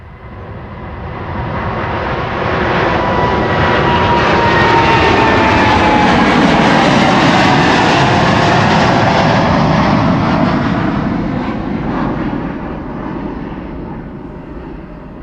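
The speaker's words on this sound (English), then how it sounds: "I will first follow, of course, this departure. KLM flight 611 to Chicago O'Hare." KLM Boeing 787-10 Dreamliner departing Amsterdam Schiphol's runway 24 for Chicago, its jet roar building loud, peaking for several seconds and then slowly fading as it climbs away.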